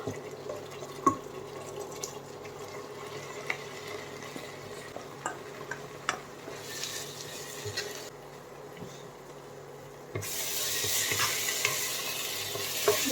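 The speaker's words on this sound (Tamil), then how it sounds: "கொஞ்ச நேரம் நம்ம வந்து இப்படியே பொரிய விடலாம் அந்த சோஸ்லேயே" Washed bulgur fries in tomato sauce in a pan, giving a low, steady sizzle with scattered stirring clicks and scrapes, and a brighter hiss rising near the end.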